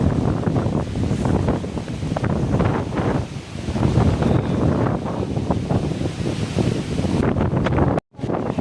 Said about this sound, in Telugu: చూడండి గాలి